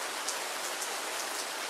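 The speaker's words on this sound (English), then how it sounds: "It's pouring rain now" Heavy pouring rain drums steadily and loudly outside a school bus conversion, a dense unbroken hiss with scattered brighter drops, no voices.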